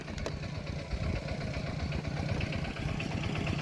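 Farm tractor engine heading home, a steady low chugging diesel drone with rapid rhythmic pulsing, moderately near and fairly faint, with no talking over it.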